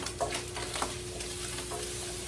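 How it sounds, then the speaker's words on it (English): Ground meat browning in a skillet for breakfast tacos, a steady close sizzle and crackle with faint stirring scrapes throughout. "So I've got my meat browning over here"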